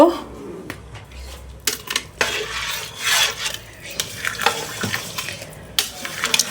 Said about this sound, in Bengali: আমার খিচুড়িটা কিন্তু ফুটতে শুরু করছে এখন আমি ফুলকপিগুলো দিয়ে দেব